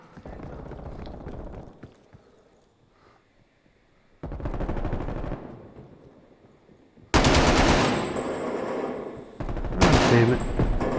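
Gunfire from a Cold War team deathmatch video game, loud bursts of rapid automatic fire in separate blocks with gaps between them.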